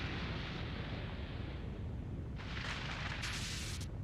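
Planet Namek explodes in the Dragon Ball Z Kakarot video game as a loud, continuous roaring rumble, with crackling bursts flaring up in the second half and no voices over it.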